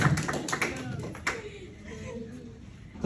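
Clapping from a seminar audience, a quick cluster of sharp hand claps that thins out within a second, leaving quieter room noise and faint voices.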